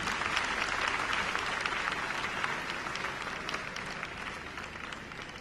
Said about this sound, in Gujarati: અને તાળીઓ કોન્સ્ટન્ટ વાગવી જોઈએ